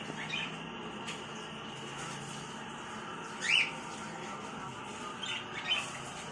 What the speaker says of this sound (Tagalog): Yan po ang tinatawag nilang Japanese Sagoromo Parakeets.